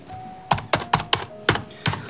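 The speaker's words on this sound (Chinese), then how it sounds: "来，把我键盘拿过来。" Typing on a computer keyboard: six or seven crisp, separate key strikes spaced about a quarter second apart, close and clear over a quiet room with a faint steady tone behind.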